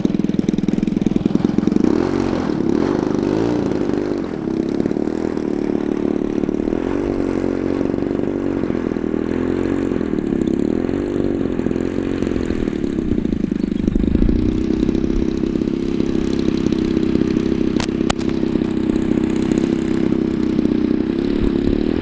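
A Waco biplane's radial engine runs steadily while taxiing out in a crosswind, a loud continuous low drone with a rough, clattering throb and slight pitch shifts throughout, no voices.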